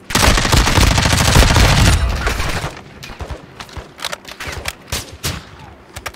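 Heavy automatic gunfire in Call of Duty DMZ, loud and continuous for about two seconds, then thinning into sporadic single shots and short bursts.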